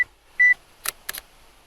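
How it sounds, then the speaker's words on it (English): A Lumix S5II camera, used at an abandoned quarry, gives one short, clear self-timer beep, then its shutter fires with two quick, crisp mechanical clicks close by in a quiet setting. "Got the timer on, let's take the shot."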